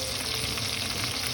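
Tofu skin fries in the middle of a hot pan with a steady, even sizzle, moderately loud and close, lasting only a moment without any voices.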